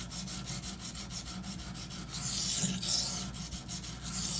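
A Spyderco Endura knife with a K390 steel blade is drawn across a diamond sharpening stone in repeated rhythmic strokes, a soft gritty rasping that swells and fades with each pass.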